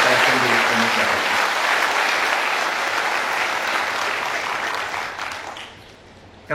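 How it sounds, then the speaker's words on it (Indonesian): An audience at a 2016 graduation ceremony of a statistics college applauds, a dense, loud, sustained wash of clapping that tapers off near the end. "saya minta tepuk tangan yang meriah untuk para dosen dan sivitas akademik Sekolah Tinggi Ilmu Statistik"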